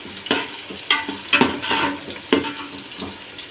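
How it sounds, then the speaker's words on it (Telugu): Onions and green chilies fry in a pan, giving a soft sizzle broken by several sharp stirring scrapes and clatters at uneven intervals, close by with no voices. "ఆనియన్స్ వేసిన తర్వాత పచ్చిమిర్చి కూడా వేసాను ఇవి కొంచెం రెడ్ కలర్ వచ్చిందాక వేయించుకుందాం"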